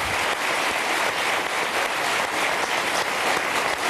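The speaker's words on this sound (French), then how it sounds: "Je vous demande de l'applaudir." A studio audience applauding a guest on a hospital-themed talk show, a dense, loud, steady clapping that fills the whole stretch.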